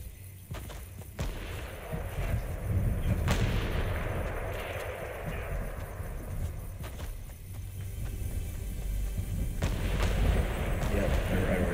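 Distant sniper gunfire in Fortnite, scattered sharp cracks over a dense rumbling game soundscape, heard faintly rather than up close.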